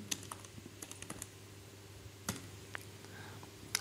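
Someone types on a computer keyboard, scattered crisp key clicks in short bursts with pauses between them, faint and close over a steady low hum, with no talking.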